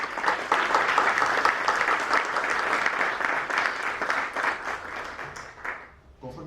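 Audience at a book presentation applauds loudly and steadily, a dense wash of many hands that carries for several seconds before thinning and tailing off at the end.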